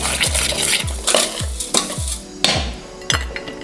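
A spoon stirs spices, blended masala chai and Earl Grey tea, and lemon and lime zest together in a mixing bowl, giving about six rhythmic scraping strokes with soft knocks against the bowl.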